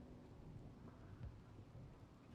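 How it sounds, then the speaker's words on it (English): Rain and low rumbling thunder from a stormy weather event in the colony-building game RimWorld, a steady dense wash of rainfall with a soft deeper roll partway through, fairly quiet and with no voices. "A rainy thunderstorm."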